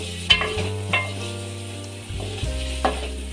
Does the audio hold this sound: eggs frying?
yes